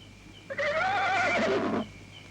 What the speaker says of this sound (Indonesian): Kudanya ngamak